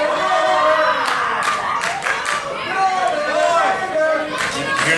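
A wrestling arena crowd cheers and claps in a loud, continuous roar, with bursts of applause rising and falling throughout and an announcer talking over it.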